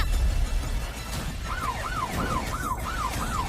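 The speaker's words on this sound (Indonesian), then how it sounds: "Itu suara sirine polisi." A police siren wails in repeated rising-and-falling sweeps, entering partway through and cycling steadily over a low rumbling background.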